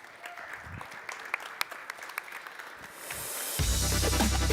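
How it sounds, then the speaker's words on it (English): Audience applause at a tech conference stage in Riga: steady crowd clapping that swells louder and fuller toward the end. "Round of applause."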